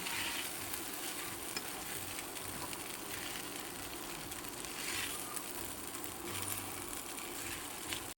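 Fried rice with egg sizzles steadily in a frying pan while being stirred, a constant close crackle with faint scraping, and no talk.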